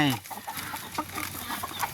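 Chickens cluck at a feeding point on a farm in Chonburi, a close, busy patch of overlapping clucks and fowl calls with a little voice noise mixed in.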